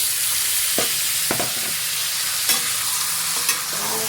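Chicken meat frying in a pan with browned onions, a steady close sizzle broken by several sharp scraping stirs of a spatula.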